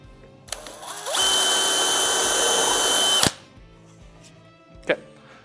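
A handheld power drill bores through a pre-existing hole in a Can-Am Commander Expedition Rack, a loud close whine lasting about two seconds, followed by a single sharp click.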